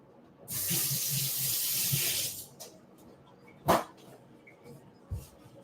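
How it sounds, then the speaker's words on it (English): A kitchen tap runs into the sink for about two seconds while hands are washed, followed by a few sharp thuds and clicks and a quiet room with faint background noise. "I'm just gonna go wash my hands."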